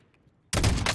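A sniper rifle shot in the video game Call of Duty Warzone: a sudden loud, close blast that breaks a near silence and rings on with a rumbling tail for half a second.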